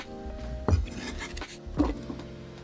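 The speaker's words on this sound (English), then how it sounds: "we're chopping up our peppers into nice little slices" Two sharp knife strikes hit a cutting board about a second apart as peppers are sliced, with faint scraping and kitchen clatter between them.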